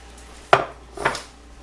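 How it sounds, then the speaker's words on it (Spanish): Two sharp knife strikes chop cilantro and onion on a board, about half a second apart, close and fairly loud with no talking. "vamos a picar el cilantro y la cebolla"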